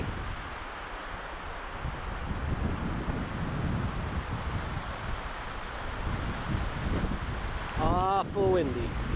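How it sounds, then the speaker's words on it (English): Steady strong wind roars and buffets the microphone throughout on a mountain pack trip near Lone Mountain, with a brief high whistling or bird-like chirp near the end. "Awful windy."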